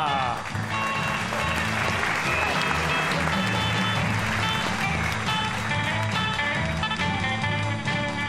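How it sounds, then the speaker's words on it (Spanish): A crowd at a parade in San Miguel del Monte applauds loudly and continuously over rhythmic music with a steady bass beat, the clapping and music blending together at a constant level. "Desfile con un fuerte aplauso a Bárbara."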